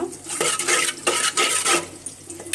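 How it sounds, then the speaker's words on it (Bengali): A cooking pot holding greens, chilli and a little water scrapes and clanks as it is set onto a stove, several short metallic knocks and shuffles close by, with no talking. "এখন আমি চুলার মধ্যে বসিয়ে দিব।"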